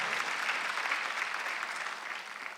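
A church congregation at a Sunday worship service applauds steadily, a dense, even wash of clapping from many hands that slowly tapers off.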